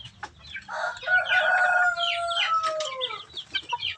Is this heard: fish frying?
no